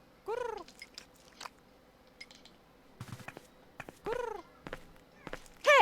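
A cat in the video game Edna & Harvey gives several short meows and chirps, spaced apart with quiet gaps and small clicks between them, fairly close and clear.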